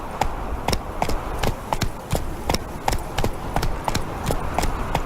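Horse Roach galloping in The Witcher 3: Wild Hunt, Hearts of Stone, a fast, steady run of close hoofbeats with clear rhythmic clip-clop thuds over a soft ambient bed.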